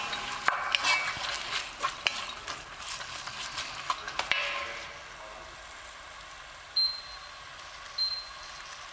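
Onions frying in a pan for a zucchini and chickpea dish while being stirred, with scraping and clacking stirring strokes over a soft sizzle during the first half, then a quieter sizzle with a couple of brief clinks.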